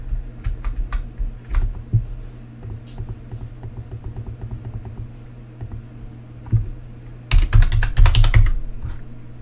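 Typing on a computer keyboard while playing Grocery Store Simulator on PC: bursts of close, rapid key clicks, sparse and irregular at first, then a dense, louder flurry near the end, with no talking.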